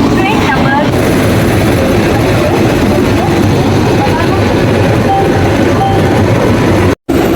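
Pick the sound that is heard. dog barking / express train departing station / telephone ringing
express train departing station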